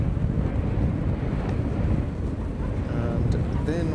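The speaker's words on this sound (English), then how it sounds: "it is really windy." Strong wind buffets the microphone outdoors at a motorsport practice session in Ireland, producing a constant loud, low rumbling roar with a few faint higher sounds near the end.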